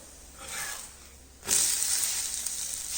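Jowar (sorghum) flatbread hisses on a hot pan, the sizzle jumping loud and bright halfway through as the bread is flipped, then holding a steady close crackle.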